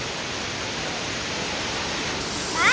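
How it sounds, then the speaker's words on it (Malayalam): A waterfall swollen by rain roars as a steady, broadband rush of water that fills the scene evenly. A brief bird-like chirp rises near the end. "അങ്ങാണ്ട് നമ്മൾ വന്നപ്പോൾ ഉണ്ടായിരുന്ന വെള്ളച്ചാട്ടത്തിനേക്കാളും വെള്ളം കൂടി കേട്ടോ."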